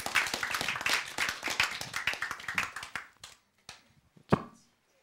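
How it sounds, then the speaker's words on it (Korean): A lecture audience at a Bible-and-science talk claps in a brisk, close burst of many hands that thins out after about three seconds into a few scattered claps before stopping. "박수."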